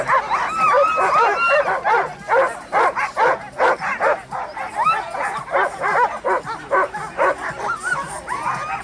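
Sled dogs at the Iditarod race launch bark, yip and whine excitedly in a dense, continuous chorus, loud and close, with rhythmic bursts throughout.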